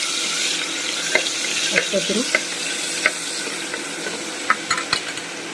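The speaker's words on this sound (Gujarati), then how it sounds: "તેલ આપણું સારી રીતે ગરમ થઈ ગયું છે. તો હવે હિંગ મૂકી અને લસણનો વઘાર મારી દઈશ." Asafoetida and crushed garlic hit hot oil for a sambhar tempering, giving a steady broad sizzle with a few sharp stirring clicks and scrapes scattered through it.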